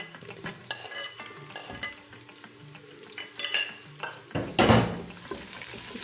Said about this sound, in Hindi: इसको भी 30 से 40 सेकंड के लिए हम फ्राई कर लेते हैं